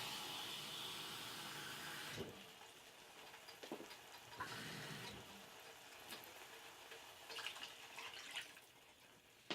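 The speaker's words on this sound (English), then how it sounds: "Let's add our water." Water is poured into a pot of rice and sofrito for arroz con gandules, a steady rushing pour that stops, then scattered splashes and clinks close by, no voices.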